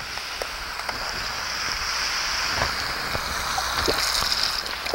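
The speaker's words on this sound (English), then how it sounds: "Now we're going to pour our stock in." Two quarts of stock pouring steadily into a pot for red beans and rice, a continuous splashing rush with small clinks, close by.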